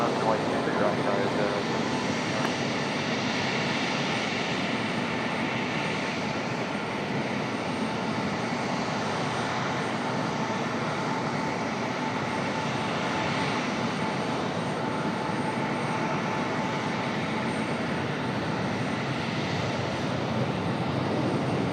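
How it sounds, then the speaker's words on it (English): A heavy FedEx jet arriving from Memphis gives off a continuous, loud, broadband jet-engine roar that stays steady across the whole stretch, with faint talk in the background. "This is, in fact, our first heavy of the afternoon, FedEx from Memphis"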